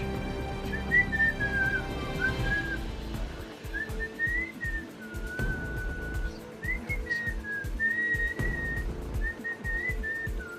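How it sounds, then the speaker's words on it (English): A whistle is blown in a wavering, sustained tone that rises and falls over several seconds, with breathy handling and background noise underneath. "So I'm about to start to blow the whistle."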